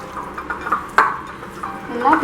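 Marinated chicken pieces being stirred and mixed by hand in a bowl, with soft wet squelches, light clinks against the bowl and a sharper knock near the middle, close and fairly quiet.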